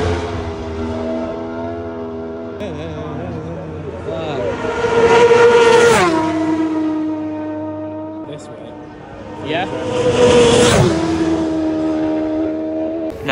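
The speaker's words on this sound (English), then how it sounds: "and if you can hear it, just bikes flying by" Racing motorcycles at the Isle of Man TT roar past twice on a road beside a nature path, engines rising to a loud whine and fading as they pass, with brief speech nearby.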